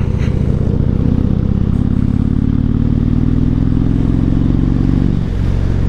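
Harley-Davidson motorcycles idling together at a Harley Owners Group ride in Manchester, a loud, close, steady low engine rumble with a rev that rises and then drops near the end, no voices.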